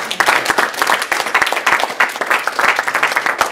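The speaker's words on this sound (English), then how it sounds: "Give the Lord a hand clap of praise." A church congregation breaks into hand clapping in praise, a dense, lively burst of many hands clapping at once, close and loud for several seconds.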